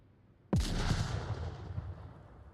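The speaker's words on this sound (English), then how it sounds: "Great nade from Crusader" A grenade blast in the Onward VR shooter: one sharp, loud explosion bursts in suddenly after a quiet start, then a broad rumbling roar decays slowly over the next two seconds.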